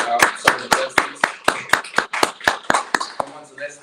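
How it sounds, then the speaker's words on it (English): A town hall audience claps for a guest, producing about fourteen crisp, evenly spaced claps at a steady rhythm, close and fairly loud, with faint voices underneath. "let's give a round of applause for Marquita Bradshaw, social justice"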